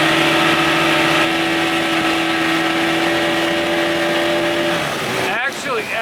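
A 1989 Evinrude 25 hp outboard motor runs at speed with its hood on and exhaust rags packed inside, a loud steady droning whine that holds a fixed pitch, then drops and wavers near the end as wind or splashing breaks in.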